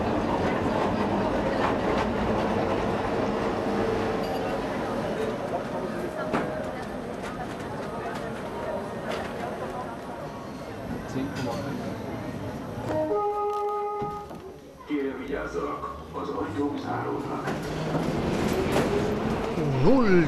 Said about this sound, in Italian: su questa panoramica linea 2 i tram articolati Ganz sono degli anni 1969-70